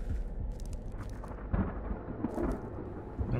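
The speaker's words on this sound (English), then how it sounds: "Need lightning." Rumbling thunder from a storm in the horror video game Blair Witch, a low continuous roll with heavier swells midway and near the end, heard alone with no voices.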